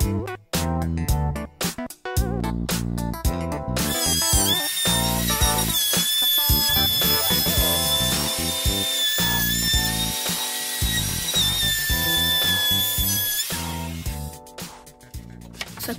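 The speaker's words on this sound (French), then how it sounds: "ça va coulisser dans une rainure en T que je vais réaliser à la défonceuse sur les portes de placard" A wood router cuts a T-shaped groove into pallet-wood cupboard doors, giving a loud, sustained high whine with changing pitch that runs almost nonstop after a few short starts, then spins down near the end.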